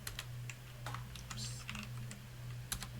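Steady computer-keyboard typing while entering code, a run of quick irregular key clicks over a constant low electrical hum, with no talking.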